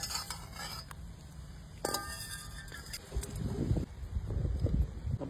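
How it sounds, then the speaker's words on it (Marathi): Boiled bitter gourd is moved into a vessel with metal clinks and scrapes of utensils against cookware, a few sharp taps early, then louder rustling, scooping sounds near the end. "आपण आता एका भांड्यामध्ये काढून घेऊ।"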